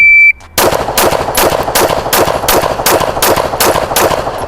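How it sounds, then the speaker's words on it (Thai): An STK100 pistol fitted with a red dot sight and flashlight fires rapidly at 10 yards on a shooting range, a short beep followed by about ten loud, evenly spaced shots in quick succession. "แล้วก็เป็นการยิงเร็วระยะ 10 หลานะครับ"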